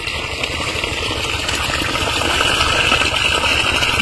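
A three-phase electric water pump motor, switched on by mobile starter, hums steadily with gushing water, continuous and fairly loud, no voices.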